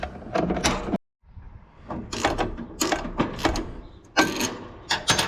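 A ratchet wrench with an extra long deep well socket tightens a bolt on a Gleaner R72 combine, giving bursts of rapid clicking and metallic clanks in short repeated strokes, close and fairly loud, with a brief silent pause near the start.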